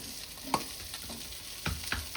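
Fish pieces pan-fry until crispy, with a soft sizzle broken by a few sharp scrapes and taps of a spatula, close up and without voices.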